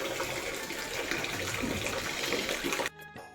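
Light rain falls outside a house in a rural area, a steady soft patter and wash that continues evenly before cutting off abruptly near the end.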